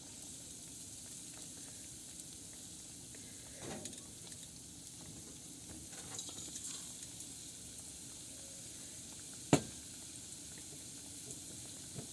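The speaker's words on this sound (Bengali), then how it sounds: "আমার ব্যাটারটা হয়ে গেছে আমি এখন ভেজে নেব" Batter fries in hot oil with a faint, steady sizzle and light crackle throughout, broken by one sharp click near the end.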